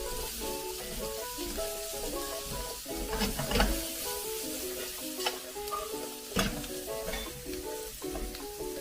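Vegetables sweating gently in a pan for a Finnish salmon dish, a soft continuous sizzle with a few light stirring knocks, close, under faint background music and without talk.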